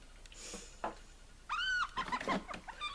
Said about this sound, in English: I'll put a hyena sound effect in right now, so you guys can hear what they sound like.